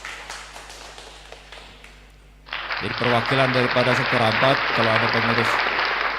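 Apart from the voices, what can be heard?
congregation applause for the winners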